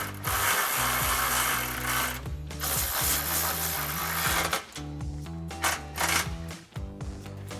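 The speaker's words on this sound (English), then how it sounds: "you can take a 13mm socket to tighten them down" A 13mm socket on a ratchet tightens combo bolts on rocker step brackets, with rapid clicking ratchet bursts separated by short pauses, loud and close with no speech.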